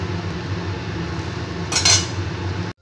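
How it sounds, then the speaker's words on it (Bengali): A metal lid set over a cooking pot of potatoes, giving one brief clink and scrape near the end over a steady low kitchen hum before everything cuts out. "আমি একটা ঢাকনা দিয়ে এবার এটা ঢেকে রেখে দেবো আলুটা সেদ্ধ হওয়া পর্যন্ত।"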